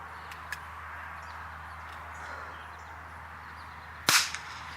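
Near the end, a single sharp crack rings out as an Alias Gem Sapphire Edition airgun fires a BB, loud and close, after quiet seconds with faint clicks and no speech.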